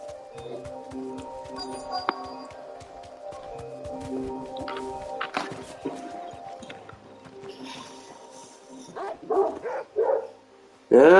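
A dog barks and yips repeatedly in the Final Fantasy XVI video game, mid-loud bursts over game music and ambient sound, with louder bursts near the end.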